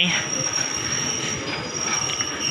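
A train rolls past on a railway line, with steady wheel rumble and a sustained high metallic squeal of wheels on the rails, close and continuous.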